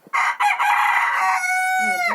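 Roosters in a Ukrainian village crow loudly and close by, one long drawn-out call running into another, rising and falling with no talk.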